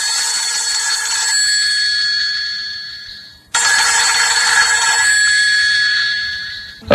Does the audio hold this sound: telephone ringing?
yes